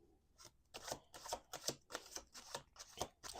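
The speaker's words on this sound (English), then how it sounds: "Last shuffle." Close, quiet hand shuffling of a tarot deck gives a rhythmic run of soft papery riffles and taps in quick succession, heard alone without speech.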